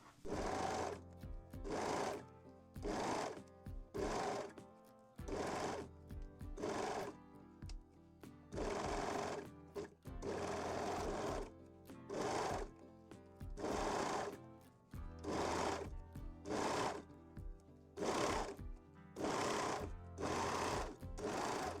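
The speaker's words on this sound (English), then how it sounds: "And sew both cup seams." Sewing machine stitching the cup seams of a lace bralette, running in steady loud bursts of rapid needle chatter with short pauses between each run, and no talking.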